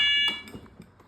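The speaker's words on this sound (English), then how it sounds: "that alarm's gonna go off" A fire alarm set off from a pull station blares a loud harmonic tone for about a quarter second, then drops away to faint clicks and handling noise.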